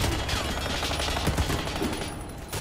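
Rapid gunfire in the shooter game Warface, dense continuous automatic shots filling the whole short stretch at steady loudness.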